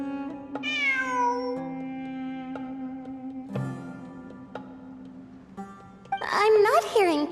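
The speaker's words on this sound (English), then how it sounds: "I'm not hearing things. It really is a cat." A cat in a video game meows several times, clear and close, drawn-out cries over quiet background music, followed by a burst of voices.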